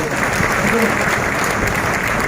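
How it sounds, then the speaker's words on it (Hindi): Seminar audience at a business event in Gorakhpur breaks into steady, dense applause, a continuous wash of many hands clapping at close range with faint voices mixed in. "ताली जोरदार हो जाए।"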